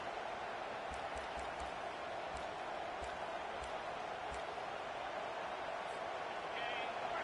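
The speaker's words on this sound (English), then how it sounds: "Listen to the crowd energy here in the early going." A stadium crowd at a football game roars in a steady, loud, dense wash that holds for the whole stretch, with faint voices underneath.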